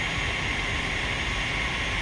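An aircraft engine in the flight simulator game DCS gives a steady, unbroken drone with a constant roar and hiss, alone and moderately loud.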